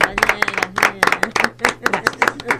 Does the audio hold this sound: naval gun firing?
no